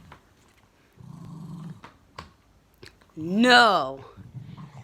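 A dog growls and whimpers while playing with a ball, breaking into a loud rising whine near the end after quieter low growls, with a person talking nearby.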